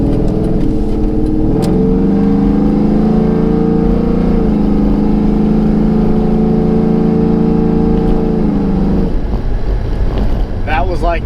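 A 1998–2002 F-body car with a 3600 stall converter holds a loud, steady engine drone at about half throttle, heard close from inside, before the revs drop and fade near the end.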